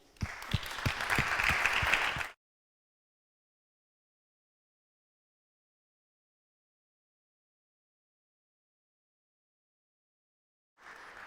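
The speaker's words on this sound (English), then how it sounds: "one last round of applause for our speakers" A round of applause from an audience for speakers at a nuclear energy talk, dense clapping for about two seconds, then silence, with a brief return of clapping at the very end.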